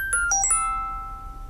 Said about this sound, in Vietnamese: Tin nhắn của Kiên.